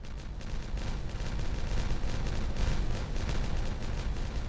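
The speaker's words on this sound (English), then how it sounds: "We do have all the dynamite placed down. We can detonate that." Dynamite detonating in the colony-building game Timberborn, a dense, continuous rumble of overlapping blasts and crackling debris that stays loud and steady throughout, with no voices.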